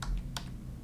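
A few crisp keystrokes on a computer keyboard while a name is entered in Photoshop, two or three distinct clicks close by over a low steady hum, no talking.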